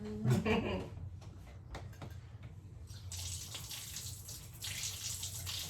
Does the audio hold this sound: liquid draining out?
yes